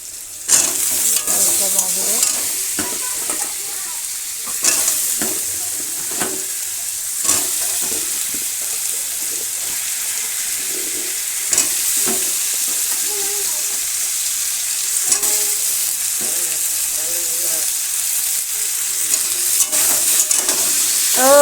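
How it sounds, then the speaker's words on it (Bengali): Chopped onion and garlic sizzle steadily in a pan in a village kitchen, with stirring scrapes and occasional clinks over the constant hiss, no talking. "পেঁয়াজ রসুন কুচিটা দিয়ে দেব একটু আস্তে আস্তেটা হবে লাল লাল করে ভাজবো"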